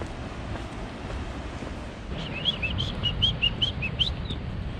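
A small bird chirps in a quick string of high notes over steady wind and surf noise on a coastal cliff path near a lagoon at Hermanus, faint but distinct.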